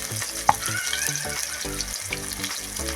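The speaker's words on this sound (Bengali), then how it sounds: "এখানে আমার আলু ভাজতে ভাজতে আমি এখানে মশলাটা বেটে নেব।" Potatoes frying in a pan give a steady close sizzle, with an occasional clink or scrape against the metal, no voices.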